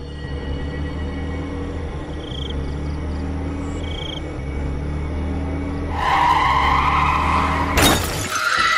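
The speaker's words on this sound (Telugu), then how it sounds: "అయితే అప్పుడే వాళ్లకు యాక్సిడెంట్ జరుగుతుంది." A car skids and crashes, tires sliding over a low engine rumble before a loud impact with shattering glass near the end, heard close and alone with no talk.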